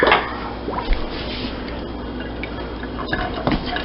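Knife and peppers rinsed under running kitchen tap water, a continuous close splashing stream with small drips and squishy handling sounds throughout.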